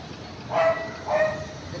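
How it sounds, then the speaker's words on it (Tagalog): A dog barks twice outdoors, some distance away, with the two barks about half a second apart. A faint background hum sits underneath. "Ingay ng aso."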